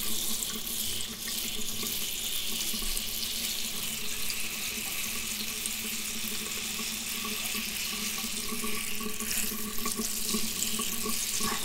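Tap water runs steadily into a salon sink for hair washing, a close, continuous rushing stream with no talk over it.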